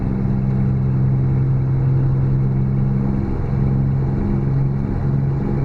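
A Kenworth truck engine in American Truck Simulator drones steadily and loudly at a low pitch, a continuous heavy hum with no break while driving through Texas.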